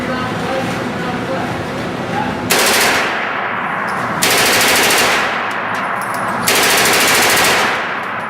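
An airsoft gun empties a full magazine on full auto in three loud bursts of rapid popping, each lasting about two seconds. Its electric motor whirs underneath, with short quieter pauses between the bursts.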